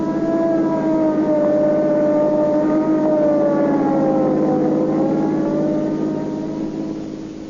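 An ambulance siren in an old-time radio drama wails loudly with a slowly wavering pitch over a low engine rumble, fading slightly at the end.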